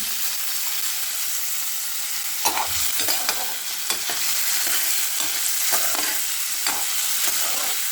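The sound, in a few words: sautéing ridge gourd and peas in a pan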